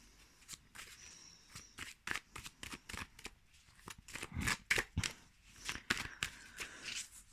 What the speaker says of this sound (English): let's shuffle these and choose 9 cards for you